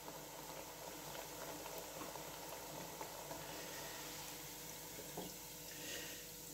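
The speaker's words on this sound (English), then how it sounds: "that's a frying of my plantain right there" Plantain frying in hot oil gives a faint, continuous sizzle and bubbling crackle with no talking.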